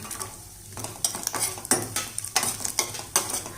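Cashews and raisins frying with roasted coconut in a pan for chana dal rice payasam, loud metal spoon scrapes and clanks against the pan in an uneven rhythm over a low sizzle, close by.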